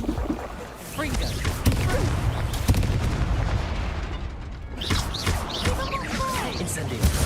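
Confringo blasting curse spells exploding in the video game Hogwarts Legacy, rapid sharp blasts and booms in a busy battle mix with voices and chirpy effects, fairly loud and crowded.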